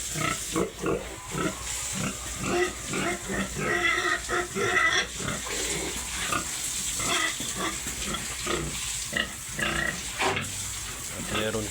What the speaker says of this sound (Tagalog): Yan mga biik. Yan po. Sisigla po sila.